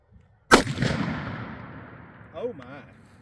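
A single loud, close rifle shot from a CVA Scout single-barrel rifle chambered in .35 caliber (.350 Legend or .35 Whelen), firing outdoors, with a long rumbling echo trailing off and a brief voice afterward.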